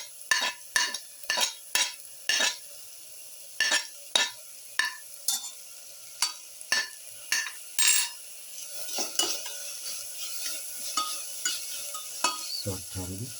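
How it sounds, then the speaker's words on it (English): Crushed ginger and garlic frying in a pan, sizzling steadily while a utensil scrapes and stirs in a quick run of distinct strokes, close and fairly loud, with no talk. "Now put in the ginger garlic that we crushed together."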